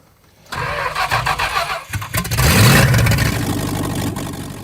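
Big-block V8 swapped into a junkyard Suzuki Samurai, its flooding carburetor making the engine crank briefly and then catch, settling into a loud, rough running rumble that stays steady to the end.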